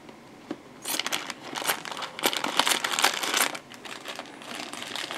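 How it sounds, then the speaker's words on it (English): Plastic bag for a figma action figure crinkling and crunching as it is cut open, a close, busy burst of rustling and tearing crackles lasting several seconds before tapering off. "We also have a bag to put everything in. So I'm just going to cut this open."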